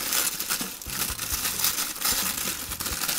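A plastic bag of Power Rangers toy parts rustles and crinkles as it is opened, a loud, continuous close-up crackle with a few soft knocks of parts shifting inside.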